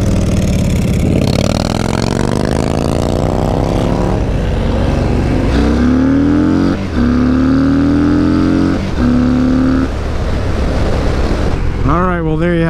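Loud Harley-Davidson motorcycle engine, a Fat Bob or Dyna Low Rider S, revving and climbing through several gear shifts with rising pitch sweeps, steady and close throughout.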